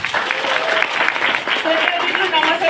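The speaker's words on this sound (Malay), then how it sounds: "Bagi tepukan dulu kepada anda." A seminar audience applauds steadily at a business motivation event, dense clapping lasting the full moment, with a voice speaking over it.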